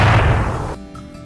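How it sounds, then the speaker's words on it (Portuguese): A single loud shotgun blast in a folk-tale narration, a sharp broadband boom that decays over about three-quarters of a second before cutting to near silence, with no talk over it. "Seu José, sem hesitar, disparou a espingarda novamente."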